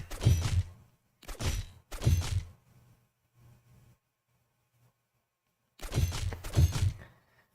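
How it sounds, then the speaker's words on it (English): Cannons firing at unicorns in the video game Wizards of Mastery: three loud, sharp booming blasts in quick succession, a lull with faint low rumbles, then two more heavy blasts near the end. "shooting unicorns with cannons"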